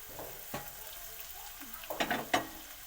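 Chopped ash gourd sizzles and fries in a hot pan, a steady low crackle with a few louder bursts as it is stirred, no voices.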